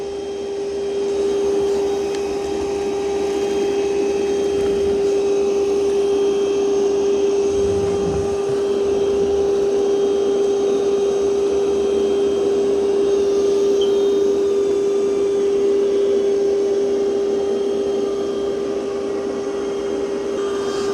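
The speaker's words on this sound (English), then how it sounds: "It's doing a pretty good job on the rug." Roborock Qrevo Edge robot vacuum working over a rug, a steady close whirring hum with a sharp constant tone, its pitch and scrubbing texture shifting slightly as it moves, with no voices.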